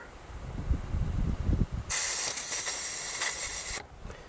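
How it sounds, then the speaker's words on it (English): A steady, close hiss of aerosol spray runs for about two seconds after some faint handling noises, then cuts off abruptly; lubricant sprayed into the gear shift of a 2007 Volvo C70. "I'm just going to kind of spray it, try to remove any crap that might be in there"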